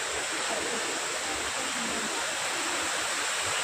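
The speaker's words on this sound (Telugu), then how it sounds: "వాటర్ ఫాల్ చూడండి బ్రదర్, ఇదే వాటర్ ఫాల్ దగ్గరకు వచ్చాం" Water pours down a waterfall in a village, making a steady, even rushing roar that holds at the same level from start to finish with no break.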